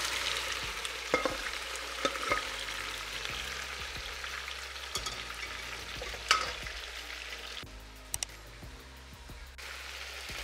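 Beef frying in ghee with aromatics and being stirred, a steady, fairly quiet sizzle with occasional scrapes and taps of the utensil against the pan.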